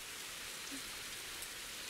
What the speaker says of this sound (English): Sorry for the rain jump scare again.